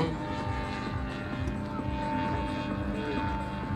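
Model airplane trailing smoke at a flying display, a steady buzzing engine drone with a regular pulsing throb, heard at a moderate distance above constant background noise.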